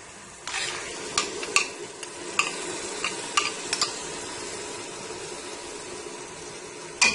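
Masala with yogurt for Lahori mutton paye is stirred and fried in a pan, a steady soft sizzle under repeated scraping and clinking strokes of a spoon, close and moderately loud, with no talking.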